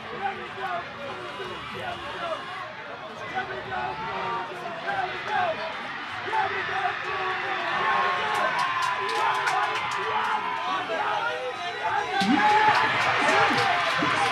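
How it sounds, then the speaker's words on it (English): A rugby crowd at a Kudus versus Wanderers match builds from chatter into loud, swelling cheers and whoops as the Kudus score a try, with a commentator's voice talking over the distant roar. "And the crowd erupts."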